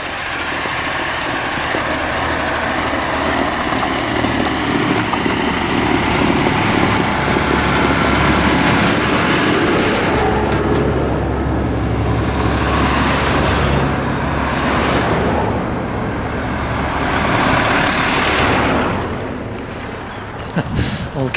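A vehicle passing along a narrow Welsh country road by the Ty Mawr reservoir: a loud, steady, rushing engine and tyre roar that swells and fades, with heavy wind buffeting throughout.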